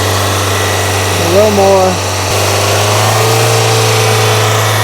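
A car engine held at a steady fast idle around 3,100 rpm gives a constant low drone that runs through the whole stretch. A person speaks briefly over it near the start.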